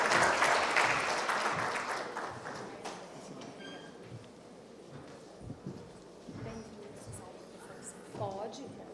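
An audience applauds loudly to welcome a speaker, the clapping strongest at first and fading over a few seconds, then giving way to scattered sounds and voices.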